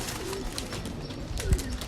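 A pigeon, a big breeder bird, coos softly with a low throaty call close by, over a busy outdoor background with a brief thump near the end.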